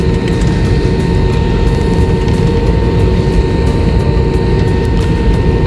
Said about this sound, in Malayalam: ഇവിടെ നിന്നാണ് എന്നെ ഫ്ലൈറ്റ് ടേക്ക് ഓഫ് ചെയ്യാനായിട്ട് പോകുന്നത്